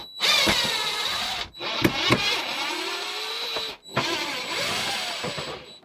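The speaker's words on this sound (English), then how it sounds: "And again, there are just 4 screws around that to remove this." A power tool backs out screws from the plastic shroud of a MaxxFan RV exhaust fan: three close, steady whirring runs of a few seconds each, with brief pauses and small clicks between them.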